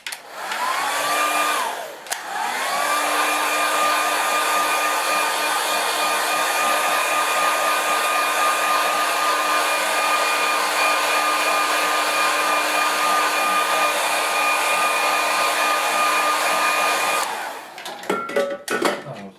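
A handheld hair dryer blows a steady, loud, continuous whir with a constant tone onto a watercolour painting, starting after a brief sputter near the beginning and cutting off near the end.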